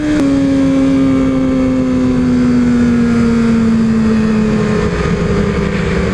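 Yamaha R6 motorcycle engine in a racing video game holds a steady, loud drone with a slowly falling pitch under continuous mechanical noise, no voices over it.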